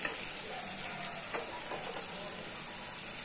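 Ingredients frying in oil with turmeric powder and green chilies, a steady close hiss of sizzling with occasional light stirring clicks, fairly quiet and uninterrupted.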